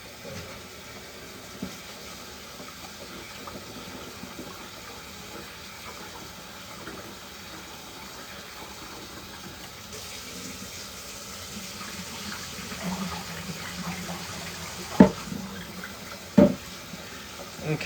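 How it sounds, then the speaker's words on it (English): Indian basmati rice being rinsed under a running kitchen tap, a steady close hiss and splash of water with a few louder knocks near the end, no talking. "Just going to go ahead and give my rice a quick rinse here."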